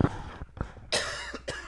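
A person coughs a few times in close, sharp bursts during a chemistry lesson.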